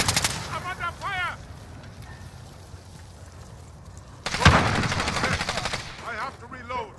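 Automatic gunfire during a Call of Duty Hardpoint match, a loud close burst cutting in midway over quieter game ambience, with short chirping effects and speech around it.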